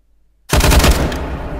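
A rifle fired while held in one hand at a long-gun marksmanship session: after half a second of silence, one loud, close blast with a sustained rumbling tail.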